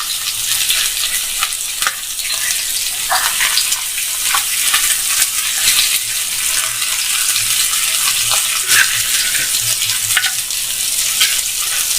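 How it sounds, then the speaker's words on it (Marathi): Gabholi fish roe frying in hot oil: a loud, dense, continuous sizzle and crackle that holds steady from start to end, heard up close with no talking. "आता सावकाश एक एक मासा या तेलामध्ये सोडून घ्यायचा"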